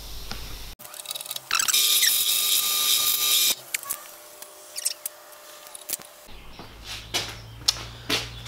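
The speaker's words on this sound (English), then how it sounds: "So what I'm trying to do now is oversize this hole here so the threaded rod just slides through" A drill oversizes an 8 mm hole so threaded rod slides through, for a DIY parallel clamp. A brief loud whine runs for about two seconds, followed by scattered clicks and tool handling.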